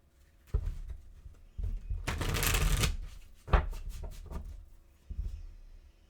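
Tarot cards being shuffled up close: a few riffling bursts and soft taps, with one longer, denser riffle in the middle.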